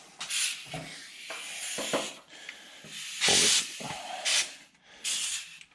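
Sharp hissing blasts of compressed air from an air compressor blow gun pushed through a power steering fitting on a 3rd Gen Cummins, several short bursts with a longer loud rush in the middle, close and alone.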